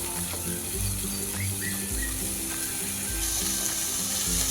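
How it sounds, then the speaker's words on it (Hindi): Spring onions hitting a pan of frying spices, a soft continuous sizzle with a low mechanical hum underneath and a few faint clinks, no talking. "अब हम इसमें डालेंगे स्प्रिंग ओनियन, क्योंकि हम इसको भी थोड़ा सा फ्राई करेंगे।"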